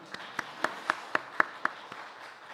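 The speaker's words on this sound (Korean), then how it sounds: "우리 박수 한번 할까요?" A church congregation at a Sunday morning service at a military university chapel gives a brief, sparse round of clapping, about eight distinct claps spaced evenly over a couple of seconds, fairly faint in a quiet room.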